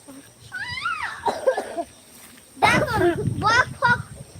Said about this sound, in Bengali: ময়ূরের আওয়াজ পাচ্ছি